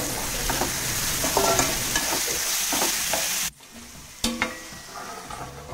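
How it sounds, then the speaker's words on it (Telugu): Lamb liver frying in a pan with turmeric, a strong continuous sizzle under clattering spatula strokes that suddenly drops to a quieter hiss with a couple of sharp scrapes, nearby and without speech. "లివర్ యాడ్ చేసుకొని స్టిర్ చేద్దాం"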